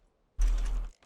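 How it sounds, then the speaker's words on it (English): A part is welded on in the Scrap Mechanic game: one short mechanical clunk and rattle lasting about half a second, close and fairly loud, then a faint click, with no talking over it. "So I'm going to weld this on."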